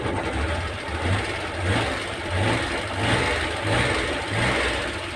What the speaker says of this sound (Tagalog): try natin i-rev